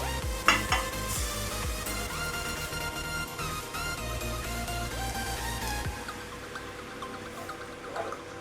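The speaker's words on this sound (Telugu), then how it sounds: "ఇప్పుడు చింతపండు రసం పోసుకుందాం." Tamarind juice goes into a sizzling pan of masala brinjal, a close sizzle with stirring scrapes and pot clinks that settles into a softer bubbling simmer in the final seconds, no talk.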